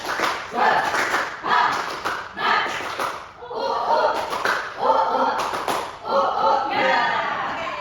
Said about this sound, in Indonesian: Ayo tepuk bersama-sama. Tepuk semangat.